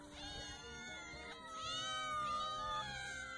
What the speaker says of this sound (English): Way too many cats,